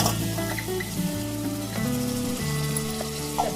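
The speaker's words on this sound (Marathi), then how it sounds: "तडतड वाजते बघा." Village-style chicken curry crackles and sizzles in a hot tempering, a steady close frying hiss with faint stirring, with no talking.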